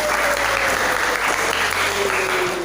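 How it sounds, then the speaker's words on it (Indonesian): Applause from a classroom of students, dense steady clapping filling the room throughout, close and fairly loud, with no talking over it. "Tepuk tangan untuk kita semua."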